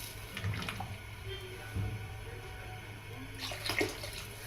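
Water pours into a pot of basmati rice, a gurgling splashing stream heard in a couple of close bursts with quieter running between.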